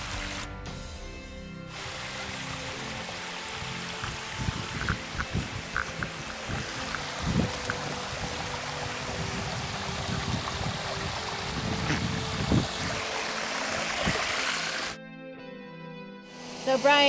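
A steady rushing roar of Korokoro waterfall on the Lake Waikaremoana track, New Zealand, fills the scene, continuous and fairly loud, with occasional knocks and voices faintly underneath.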